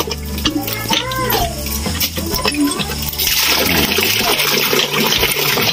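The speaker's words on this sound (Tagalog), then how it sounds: "Malakas din ang tubig." Strong water rushes from a newly installed home water line, starting as gurgling and splashing over background music, then swelling into a loud, steady gush for the final seconds.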